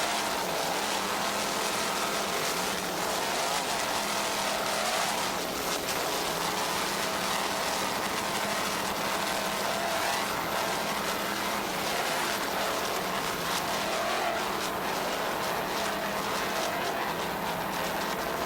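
Racing powerboats in open-class competition, including a 38-foot Cougar, their engines roaring in a steady, dense wash of noise that holds constant throughout, heard from a distance with no talk.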